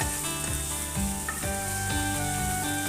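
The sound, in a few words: water lily stems frying on high flame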